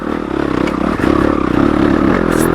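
A stock Yamaha YZ250FX dirt bike engine chugging at low RPM in second gear over loose rocks, loud and close with a steady throbbing drone and rattling clatter from the terrain.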